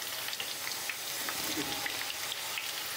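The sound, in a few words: potatoes and moringa drumsticks frying in a pan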